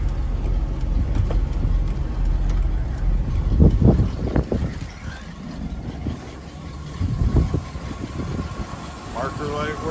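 A 1972 Chevrolet K10 pickup's engine idles steadily with a low, even rumble, while a person talks over it throughout.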